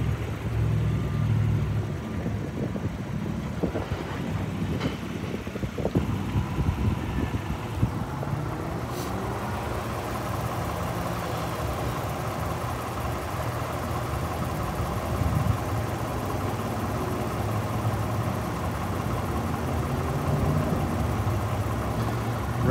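A 2013 Lexus RX 350 AWD idles steadily with a low, even engine rumble throughout, joined by light wind buffeting on the microphone and no talking.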